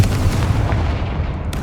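The Confringo fire spell in Hogwarts Legacy lands as a heavy, rumbling blast. One dense boom rolls out for over a second, loud and close, with no voices.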